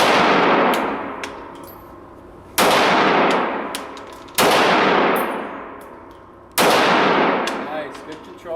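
Tokyo Marui FN5-7 gas blowback airsoft pistol firing at a range: three sharp, loud metallic cracks spaced about two seconds apart, each with a ringing decay, close by with no talking.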